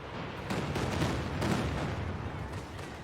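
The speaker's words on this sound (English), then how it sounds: "Did you just fire both Katyushi at a sniper?" A Katyusha rocket barrage in Company of Heroes 2 roars as a steady, dense wash of launches and distant blasts, continuous and loud with no gaps and no voices.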